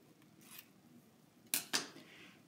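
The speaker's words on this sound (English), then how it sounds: "fold that, cut it into two 5-inch pieces" Scissors cutting a 10-inch craft ribbon into two pieces for a scrapbook page layout, giving two quick, close metallic snips after a soft rustle, in a quiet room without talk.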